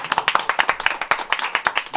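Film crew members on set clap harder and faster, a dense run of crisp, close handclaps that carries on for the whole stretch with no voices.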